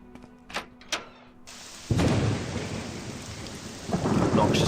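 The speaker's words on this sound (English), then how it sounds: "Obnoxiously loud thunder effects." Thunderstorm effects in the video game Morrowind: a sudden loud thunder crack bursts in and rolls into a steady roar of heavy rain, preceded by a few faint knocks.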